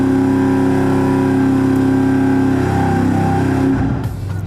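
A race engine on a dyno, fitted with EFI and running with a slight misfire, holds a loud, steady, droning idle with a faint irregular stumble, then eases off toward the end.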